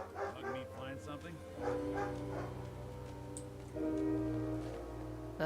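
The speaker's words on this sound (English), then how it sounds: "the amount of dog barking he's hearing off screen" Dog barking in Fallout 4, heard off screen as a run of repeated barks and yips beneath game music and a man's speech.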